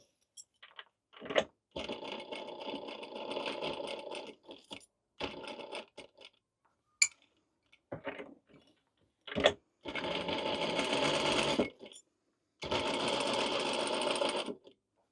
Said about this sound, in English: when I go over the tab, I'm just going to back stitch a little bit.